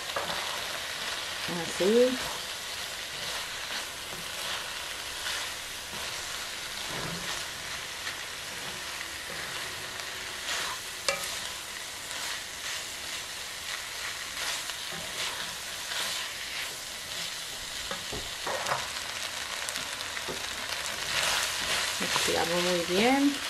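Rice with pork and vegetables sizzles and fries steadily in a pan, with occasional stirring scrapes and a brief word spoken over it.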